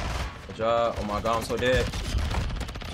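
Rapid SMG fire from the FTAC Siege in Call of Duty MW2 multiplayer, dense bursty shots under and between excited spoken voices.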